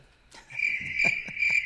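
A crickets-chirping sound effect plays as a steady, high continuous trill, close and clear, with a few soft low thumps beneath it and no speech.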